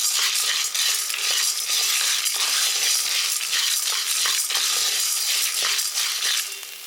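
Peanuts dry roasting with rock salt in a pan make a continuous gritty rattle and scrape as they are stirred, with close, dense crackling and clicking throughout and no talk.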